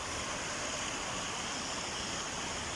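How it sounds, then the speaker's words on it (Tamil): Water overflowing from Thusur lake in Namakkal district pours in a steady, even rushing wash, like a weir or small waterfall, continuous and moderately faint throughout with no voices. "பாருங்க தண்ணி எப்படி வலிஞ்சு போயிட்டு இருக்குதுன்னு"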